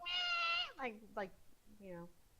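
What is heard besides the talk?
cat meowing, name-that-sound game clip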